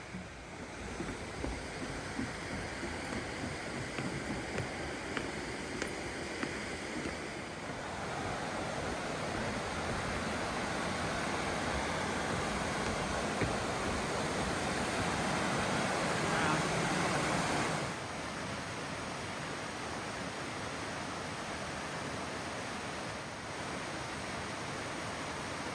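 A constant roaring rush of falling water at Mill Creek Falls in West Virginia fills the whole stretch, loud and broadband, briefly intensifying midway before settling back.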